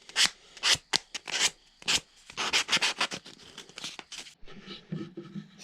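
A small wooden powder horn peg being sanded, a series of distinct close rasping strokes, some short and some longer, fairly loud, with the last second turning into lighter, duller rubbing.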